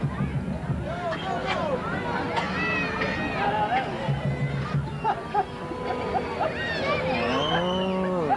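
Parade crowd imitating cow moos, several overlapping drawn-out mooing voices near and far over general crowd chatter and hubbub.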